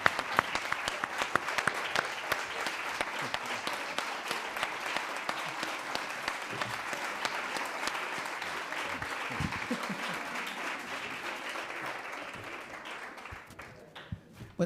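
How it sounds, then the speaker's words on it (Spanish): An audience at a conference rises for a sustained round of dense applause that carries on for about fourteen seconds before tapering off at the end. "nos levantamos, le damos un aplauso y nos vamos a comer"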